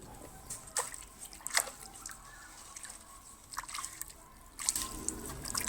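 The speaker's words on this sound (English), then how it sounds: "Let's put the pole in water." Water trickles, drips and lightly splashes as a wooden clothesline pole is set down into water outdoors, with soft intermittent sloshing bursts that return louder toward the end.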